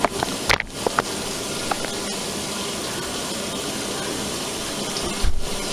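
Water rushing steadily into the tub of a 2004 Kenmore (Whirlpool) 80 Series washer during filling, a continuous broadband hiss with a few brief knocks and clicks near the start and end.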